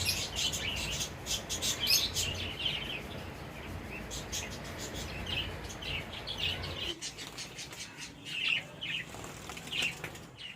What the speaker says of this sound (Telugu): ఇక్కడ చూడండి ఎన్ని ఫించెస్ ఉన్నాయో